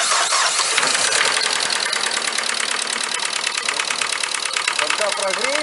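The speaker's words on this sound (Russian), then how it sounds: "Запускаем двигатель." Renault Grand Scenic 2006 engine, 106 hp, cranking and catching, then running steadily with a rapid, even mechanical clatter near the microphone, a knocking fault under investigation.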